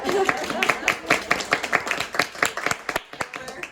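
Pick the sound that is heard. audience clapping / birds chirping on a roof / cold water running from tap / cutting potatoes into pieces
audience clapping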